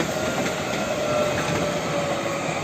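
A passenger train rolls past loudly and close near Warszawa Zachodnia, an SKM unit and an Intercity Flirt, a continuous rumble of wheels on rails with a faint high squeal running through it.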